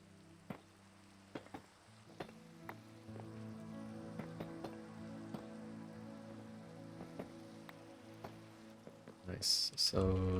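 Minecraft rain falls as a soft, steady hiss, with faint clicks and taps scattered through it and a brief louder sound near the end.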